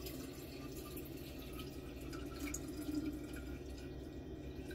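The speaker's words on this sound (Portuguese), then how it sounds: "Vamos pôr a água." Water poured into a container to be heated for tea, a steady close splashing trickle with faint drips, heard alone without voices.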